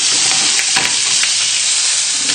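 Fish frying skin-side down in a pan gives a loud, close, steady hiss and sizzle with small crackling pops throughout.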